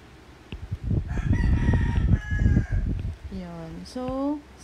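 A neighbour's rooster crows right beside the house, loud and close, with a drawn-out call near the end, while a person speaks over the first part.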